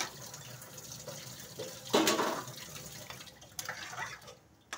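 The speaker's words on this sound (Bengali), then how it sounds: "এবার আমি জল দিয়ে দিচ্ছি সিদ্ধ হওয়ার জন্যে" Water poured into a cooking pot of braised food to boil, a brief louder gush in the middle amid quieter trickling and clinks, close and alone.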